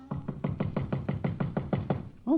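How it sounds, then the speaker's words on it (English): Knocking on a door as a sound effect in an old-time radio drama: about a dozen steady, evenly spaced knocks in a quick series, close and clear, followed by the start of a voice. "I hear a knocking on my door"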